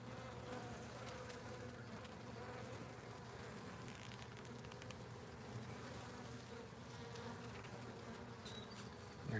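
A small swarm of bees buzzes inside a hive among brood frames, a close, dense, even hum that carries on steadily with no voices.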